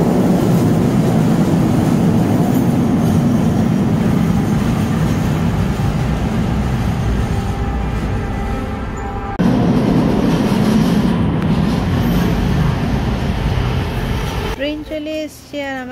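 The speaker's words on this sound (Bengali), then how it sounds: "ট্রেন চলে এসছে" A train arriving at and running through a station in Toronto, with a loud, continuous, close rumble and rail noise that swells and drops near the end, while people talk over it.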